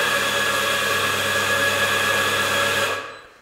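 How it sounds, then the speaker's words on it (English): A Sanremo coffee grinder whirs steadily as it grinds a dose into the portafilter, a loud close continuous buzz that cuts off near the end. "lock them into the grinder and choose your dose button."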